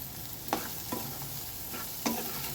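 Bitter gourd fry is stirred in a pan, with three sharp spatula scrapes over a constant low sizzle of frying and no voices.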